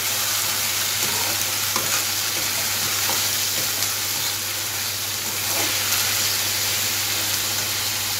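Ridge gourd prawn gravy bubbles and hisses in a pan with a dense, constant sizzle and faint stirring scrapes. The sound is fairly loud and steady, with no talking.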